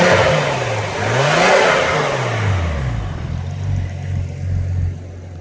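A 1995 Nissan Skyline GTST Type M sedan's turbocharged engine with a blow-off valve revs up and down in several swooping blips over a loud rumbling idle, heard close from outside the car.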